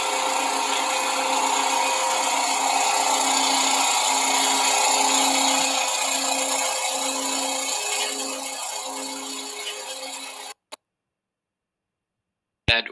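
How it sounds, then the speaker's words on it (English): A bandsaw runs at one constant speed with a steady high whine and hum for about ten seconds, then shuts off abruptly into silence. "The bandsaw, you cannot control the speed on. It runs at one speed when it's on."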